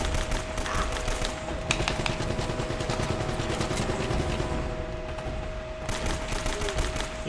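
Video game gunfire from Uncharted: Drake's Fortune crackles in dense, continuous bursts of rapid shots over a loud battle din, with no voices.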